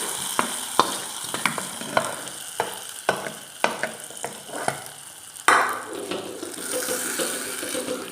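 Fried tempering poured into a yam and green gram erissery curry: a series of sharp clinks and scrapes, then a sudden loud sizzle that keeps hissing steadily close by.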